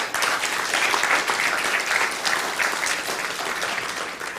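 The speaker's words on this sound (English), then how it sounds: "we really want to applaud Neil for what he did" A seated audience at a talk on age reversal and diet applauds, producing a full, sustained wash of clapping from many hands that holds steady and then eases off slightly.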